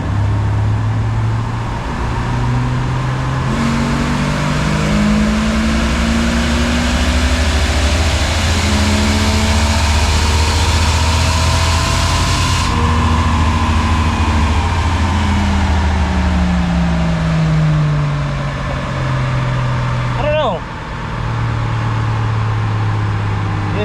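A Jeep Wrangler with the 4.0 engine pulls hard in second gear, the engine drone rising in pitch as it revs, easing and climbing again in repeated sweeps, loud and close from inside the cab.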